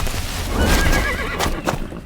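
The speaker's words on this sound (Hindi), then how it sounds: "ड्रैकुला ने अचानक अपने दौड़ते घोड़े पर लगाम लगाई।" A galloping horse gives a loud, close neigh as its rider abruptly reins it in, the whinny rising and wavering across the whole moment with faint hoof clatter beneath.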